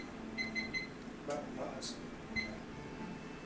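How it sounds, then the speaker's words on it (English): An oven timer being set beside a preheated oven holding a roasting turkey gives a quick run of three bright electronic beeps, then one more beep a moment later, close by over a low kitchen hum. "Set our timer."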